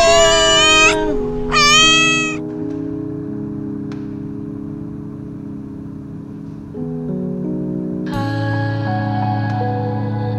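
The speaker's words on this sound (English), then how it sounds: "Ah, you have kitty." A cat meows loudly and close by in Pottuvil near Arugam Bay, Sri Lanka, giving several drawn-out, wavering cries with short pauses between them.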